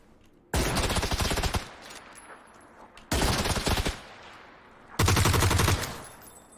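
Automatic gunfire in the battle-royale game PUBG, three long loud bursts of rapid shots separated by short pauses, close and dense, with no talk.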